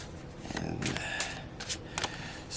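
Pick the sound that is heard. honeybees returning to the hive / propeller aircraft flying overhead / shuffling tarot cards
shuffling tarot cards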